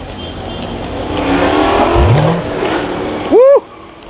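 A supercharged car at a car meet, with M3, X5, X6M and Corvette cars present, revs its engine with a rising roar that peaks mid-clip, then a sharp tire squeal or whine cuts in briefly near the end.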